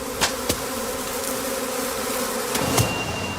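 Bees buzzing around bee skeps at the end of August, a dense steady drone with several individual bees zipping close past, loud and constant.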